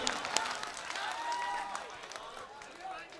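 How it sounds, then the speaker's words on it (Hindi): Audience applause at a mushaira and kavi sammelan poetry gathering in Motihari, scattered, fairly faint clapping from a crowd over a few seconds, with a voice speaking through it. "और अब इन दोनों हाथों को मिलाकर तालियों में बदल दें।"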